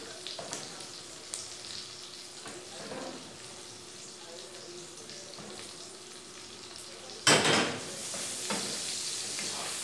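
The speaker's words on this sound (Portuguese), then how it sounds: "E vou deixar aqui a calabresa fritando mais um pouquinho." Calabresa sausage fries in a pan for feijão tropeiro, crackling and sizzling steadily at moderate volume, with a louder surge of spattering near the end and brief kitchen clatter.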